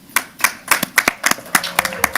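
Several people clapping at a council meeting, a short burst of sharp, uneven hand claps close by, with no talking.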